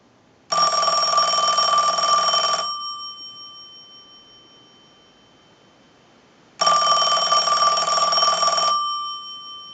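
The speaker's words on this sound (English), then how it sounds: "we can use the analyzer and send a ring cycle like you were getting a call" Western Electric Princess desk telephone bell ringing on a line-analyzer ring cycle: two loud bright metallic rings about two seconds each, separated by a long silent gap, each ending in a fading bell decay.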